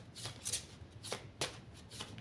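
A deck of oracle cards being cut and shuffled close up: quiet rapid riffling and a few soft flicking bursts in quick succession, with no talking.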